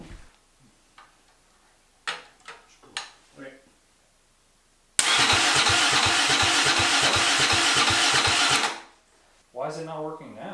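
A rebuilt Polaris Turbo 660 engine cranks for its first start: after some scattered knocks and voices, a loud, steady rhythmic cranking churn runs close up for about four seconds, then cuts off as people talk.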